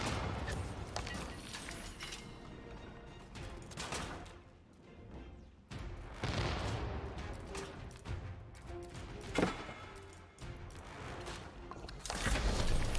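Cannons firing in the strategy game Age of Empires, loud booming bursts and crashes in irregular clusters separated by brief lulls.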